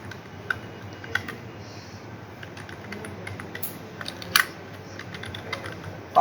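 Typing on a computer keyboard, with sparse, fairly quiet key taps and a few louder clacks spaced irregularly over a low steady hum.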